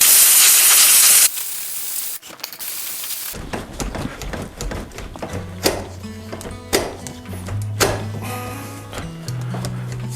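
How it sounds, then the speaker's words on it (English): Compressed air hisses hard in short bursts at the front derailleur of a Trek Marlin bike, a loud sharp spray that stops, bursts again, then gives way to clicking, rattling and mechanical hum. "Try to blow it with some compressed air."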